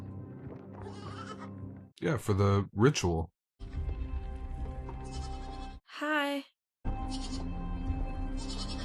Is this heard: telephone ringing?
no